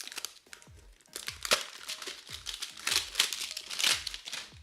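Plastic shrink wrap is peeled and crumpled off a new rain machine during setup, giving close, continuous crinkling and tearing with repeated louder crackling bursts.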